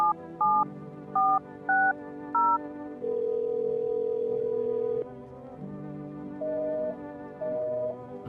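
A phone dials in the video game No I'm Not a Human: a quick series of paired keypad tones, then a long steady dial tone, followed by two shorter ringing tones in a quiet setting.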